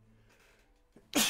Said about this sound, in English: Successfully sneezed.